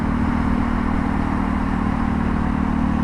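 A Honda CL250 motorcycle, newly bought and not yet past its first service, runs under way with a steady, loud engine drone and wind noise throughout.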